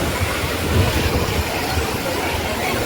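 Water pouring steadily down into a crowded temple bathing tank at Damodar Kund near Bhavnath Temple, Girnar, a loud continuous rushing wash filling the space with no break.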